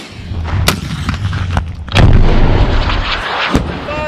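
A Carl Gustaf M4 recoilless rifle fires with a loud, deep blast near two seconds, preceded by sharper cracks and followed by a rolling echo across open ground, with fainter distant shots around it.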